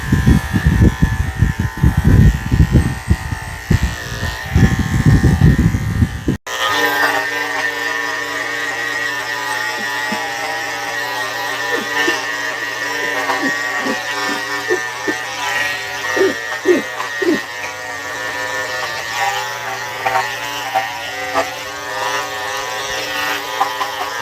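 Electric pet clippers fitted with a 7 blade buzz steadily while shaving a Havanese dog short. The close, constant motor drone follows a noisier opening stretch and runs with faint clicks and a voice talking at times.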